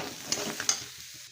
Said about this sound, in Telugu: మరోసారి కలిపేసేయండి.